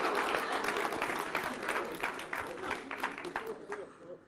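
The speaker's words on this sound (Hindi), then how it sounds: "तालियां भी आपने ऐसे आउट ऑफ रिदम मारी ना" An audience claps unevenly and out of rhythm during a song, a fairly faint, busy patter of many hands with speech-like sounds mixed in, fading slightly toward the end.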